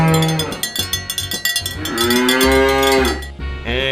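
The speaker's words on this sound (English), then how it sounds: "And wow, cow. This is a farm animal" A cow moos loudly and close by in long, drawn-out lowing calls, while a clanking cowbell rhythm sounds beneath them and a third moo begins at the end.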